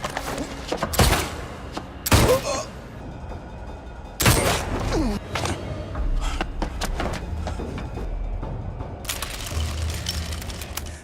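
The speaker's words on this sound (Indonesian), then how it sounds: "Tapi tiba-tiba Reed menembak Nung hingga tewas lalu menembak kakinya sendiri" Gunshots in a movie scene where a man shoots another dead and then shoots his own foot, a few heavy booming blasts spaced seconds apart over a dark rumbling soundtrack.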